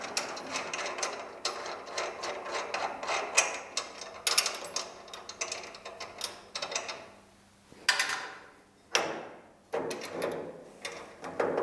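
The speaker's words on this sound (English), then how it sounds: "I'm going to jump on the other side and try and get this other bolt out" A bolt is worked loose on the rear suspension of a GT40 kit car, with quiet repeated ratcheting clicks and metallic clunks in uneven bursts, fairly close, with no talking.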